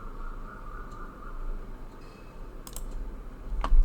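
Quiet computer keyboard taps and mouse clicks sound sparsely over a low steady hum, a few sharp clicks near the end.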